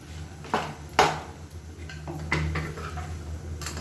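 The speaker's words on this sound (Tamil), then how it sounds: "சாஃப்டாக கிளறி விட்டுக்கோங்க." Vegetables stirred in a kadai for a side dish such as raw banana fry or drumstick poriyal, giving a few soft utensil scrapes and light clinks against the pan, with two sharper knocks early on, fairly quiet with no talk.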